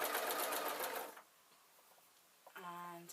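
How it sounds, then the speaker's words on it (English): A sewing machine stitches quilt squares placed right side to right side, running in a fast, steady mechanical patter for about a second before stopping; a voice speaks briefly near the end. "I'm going to sew it like this"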